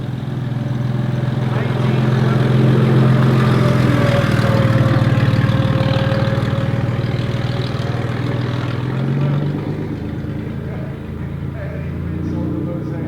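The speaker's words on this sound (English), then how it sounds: "there's a bit of engine sound, one-upmanship going on." Classic car engines revving and idling during the Villa d'Este concours parade, a loud, deep rumbling drone that swells and eases, with someone talking over it.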